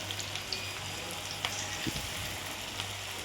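Onion pakoda fries in oil over a medium flame, giving a close, steady sizzle with a few light pops and spatters throughout.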